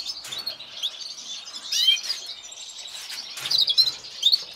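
Small birds chirp and tweet busily inside a greenhouse converted into an aviary, bright overlapping calls rising and falling close by without pause.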